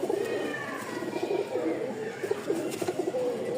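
Rajgolla pigeons coo continuously and close by, a soft steady murmur of several birds with light fluttering and small movements layered through.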